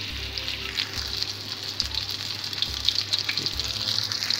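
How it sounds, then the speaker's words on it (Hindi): Fish frying in a home pan, a continuous loud crackling sizzle held close, with a pulsing low rumble and no voices. "थोड़ी देर फ्राई हो जाए फिर हम इसको पलटेंगे"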